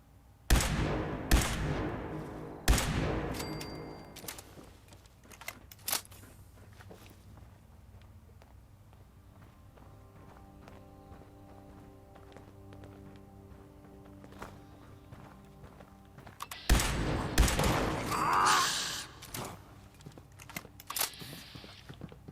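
Gunfire in Fallout 76, sharp sudden shots in small clusters at the start and again near the end, with quieter game sounds between them.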